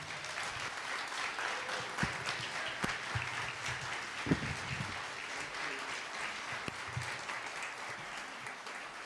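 A congregation at a Sunday service gives sustained applause to a church service team, an even, dense wash of many hands clapping at moderate distance.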